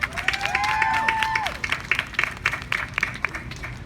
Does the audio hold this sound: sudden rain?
no